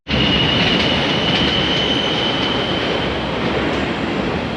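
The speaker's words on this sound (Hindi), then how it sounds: "अभी ये चला गया कुआलालंपुर MRT या फिर LRT, कुछ भी।" A Kuala Lumpur MRT or LRT metro train passing close by, its loud, steady rolling roar starting abruptly and holding throughout, with a thin high wheel squeal running over it.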